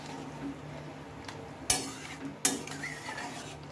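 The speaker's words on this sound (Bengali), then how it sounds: "চিংড়িটা দিয়ে এবার একটু আমি নেড়ে চেড়ে নেব।" Fried prawns being stirred in a pan for a potato and prawn dish, giving a low background hiss with two sharp utensil clinks against the pan, fairly close and otherwise quiet.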